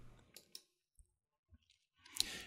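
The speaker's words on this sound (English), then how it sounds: "So I'm going to click on OK." Mouse clicks on an OK button, a few sharp isolated ticks spaced through near silence, then a brief rustle at the end.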